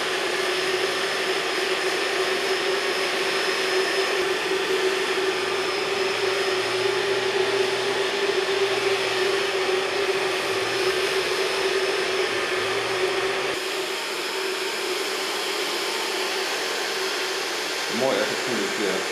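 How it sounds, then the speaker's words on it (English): A hair dryer blows over short pixie-cut hair, a loud, steady, close whoosh with a constant whining tone that dips slightly near the end. Voices may be faintly audible beneath it. "I'm going to blow dry it just with the use of my fingers."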